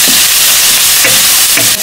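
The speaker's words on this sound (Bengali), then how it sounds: "পেঁয়াজগুলো ভালো করে ভাজতে হইব।" Onions and green chillies frying in a village kitchen, a loud, close, dense sizzle with faint stirring scrapes running throughout.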